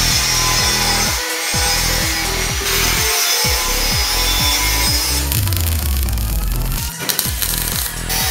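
Hand sawing through a part for a Batmobile built from scrap, a steady back-and-forth rhythm of loud rasping strokes up close, with a rougher scraping stretch near the end and no talk.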